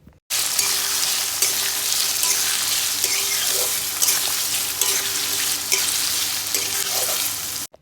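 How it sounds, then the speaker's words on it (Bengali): Grated ginger and boiled potato fry in a pan with a dense, continuous sizzle, close and steady, punctuated by occasional scraping stirs. "তারপর সিদ্ধ করে রাখা আলুটা ওটা দিয়ে ভালো করে ভেজে নিতে হবে"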